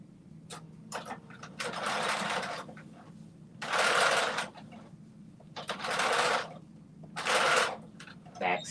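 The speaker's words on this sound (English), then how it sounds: "stitch the uninterfaced pieces together at the right side" A sewing machine stitching uninterfaced fabric pieces together at a 5/8-inch seam allowance, running in several close bursts of rapid mechanical whirring separated by short pauses, with a voice speaking in the gaps.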